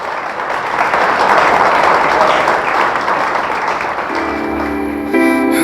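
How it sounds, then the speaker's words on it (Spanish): A church congregation applauds loudly and steadily during a service, a thick wash of clapping from many people that holds strong throughout, with sustained musical tones entering near the end. "Dele fuerte, fuerte el aplauso a nuestro Dios"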